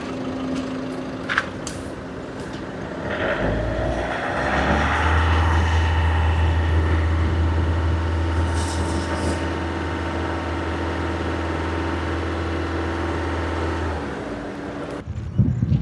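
A Tata car engine, bonnet open, cranks to life and settles into a steady low rumbling idle, loud and close, running on alone without talk.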